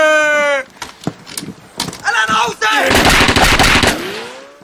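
Gunfire from Soviet snipers in a Finnish war film, with rapid bursts of loud shots and sharp cracks over dramatic music and effects, close and intense, with brief voices mixed in.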